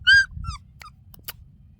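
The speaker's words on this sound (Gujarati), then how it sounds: "અહીંયા કૂતરું રાડું દે ગયું ગલુડું" A puppy yelps outdoors: two sharp, high-pitched cries in quick succession, then a few faint, scratchy squeaks fading against a low background rumble.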